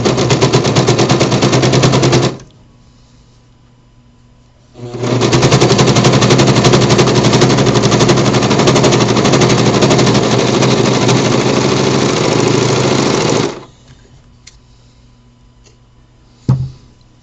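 A serger stitching fabric runs in two fast, loud buzzing bursts with a short pause between, then stops; a brief clunk follows near the end.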